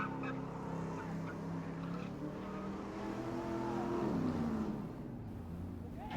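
A car engine roars continuously with squealing, whining tones sliding in pitch as the tires spin in a burnout at a family fun night event, with a crowd faintly behind.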